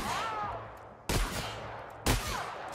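Gunfire in the first-person shooter The Outer Worlds: two sharp, loud shots about a second apart, each with a booming tail, over a steady game ambience.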